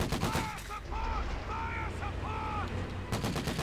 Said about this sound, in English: We got the M3A1 opening up here on the Sturmpioniere with its 50 cal machine gun.